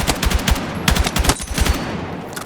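Short bursts of M277 rifle fire in Battlefield 6, loud and close, rapid shots clustered in quick groups with brief pauses between them and no talking.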